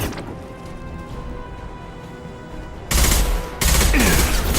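Gunfire in Mass Effect Legendary Edition: a lower rumbling game ambience, then two loud, dense bursts of shots erupt near the end, close and sustained with a brief gap between them.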